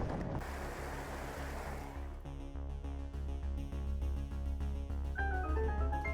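Rocks are smashed in Zelda: Tears of the Kingdom, and water drains from a basin afterwards: an opening wash of rushing water gives way to a low droning rumble, with mechanical tones and chimes toward the end.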